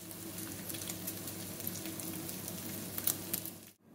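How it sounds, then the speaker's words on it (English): Bread fries in bacon fat for an English breakfast, a steady soft sizzle and crackle with faint spits, heard alone until it cuts off abruptly near the end. "And now we've got the fried bread in that bacon fat"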